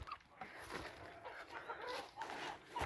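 Clucking from two quarrelsome hens in a pen, a McLean's hatch hen and a leaper, comes as soft, scattered calls against quiet farmyard background, with no voices present.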